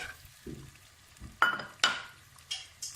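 Blended tomatoes and peppers frying in a pot for Nigerian asaro porridge, quiet sizzling under a few sharp spoon scrapes and knocks against the pot, close and intermittent.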